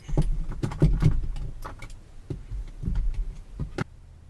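Keys jangling as they are picked up beside a car, a series of irregular metallic clinks and rattles in close bursts with short pauses, no speech.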